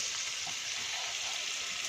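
Washed rice goes into a sizzling turmeric tempering for masala khichdi, with a continuous close hiss and crackle throughout.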